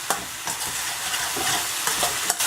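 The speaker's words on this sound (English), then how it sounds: "I'm going to continue to fry these up for another minute or so." Red pepper and bamboo shoots sizzle and hiss in a hot pan while being stir-fried for chow mein, with periodic scraping tosses over the steady frying crackle.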